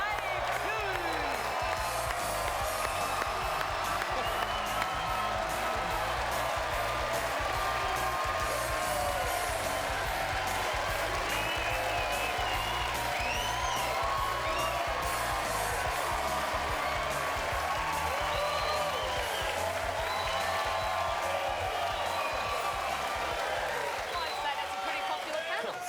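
A studio crowd at an Australian football TV show claps and cheers steadily as the panel is introduced, a dense continuous wash of applause with whoops that holds loud from start to finish.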